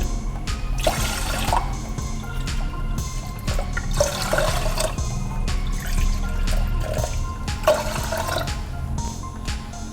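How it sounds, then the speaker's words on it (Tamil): Water pours and splashes in bursts into a pressure cooker for sweet pongal, close and fairly loud, with gurgling and dripping between pours. "இப்போ நான் நாலு கப் அளவு தண்ணி ஊற்ற போகிறேன்"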